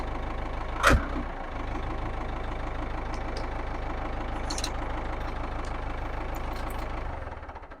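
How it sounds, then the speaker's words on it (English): Tractor engine idling nearby with a steady low chugging rumble, preceded by a brief loud knock near the start, running evenly and then fading at the end as it is shut off. "We gotta shut off the tractor"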